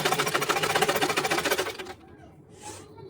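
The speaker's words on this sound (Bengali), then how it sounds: "এখন এর উপরে বড় বড় করে সেলাই করে নেব" A sewing machine runs in a fast, steady stitching rhythm while sewing a blouse, loud and close for about two seconds before stopping, followed by quieter handling noises and a faint brief hiss.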